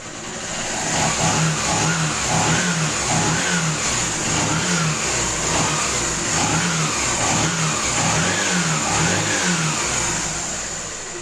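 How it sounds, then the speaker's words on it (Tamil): A Honda Shine motorcycle with a loose kick-starter runs its engine nearby, a loud, steady mid-pitched drone with rhythmic swells like light revving throughout, no talking. "ஜஸ்ட் நான் ஸ்டார்ட் பண்ணுறேன் பாருங்கள்."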